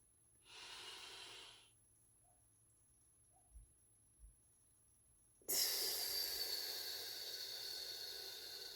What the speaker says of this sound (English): Let's take a third breath.